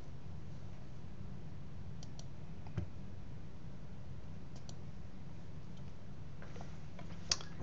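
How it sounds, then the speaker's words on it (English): A computer mouse double-clicks a button, faint quick clicks in pairs over a low, steady background hum. "I'm going to double click the calculate button"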